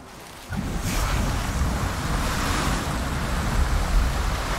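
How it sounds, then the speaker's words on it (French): Small geysers in the Icarus video game rush and churn in a loud, continuous watery roar that starts abruptly and holds steady, noisy like surf or wind. "Impressionnant ces petits geysers"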